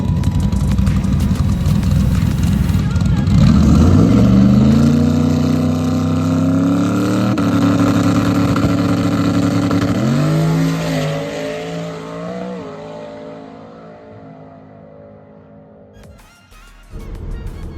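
A drag racing car making a pass at Amarillo Dragway, loud engine roaring up through rising gear pulls with sweeping revs, then fading into the distance before a nearby rumble returns at the end.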